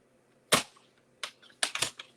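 A paper trimmer slices through cardstock with a sharp snapping cut, followed by a few lighter clicks and scrapes as the blade and paper are handled close by in a quiet room.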